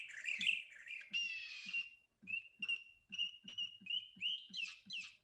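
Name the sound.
recorded audio snippets of different kinds of birds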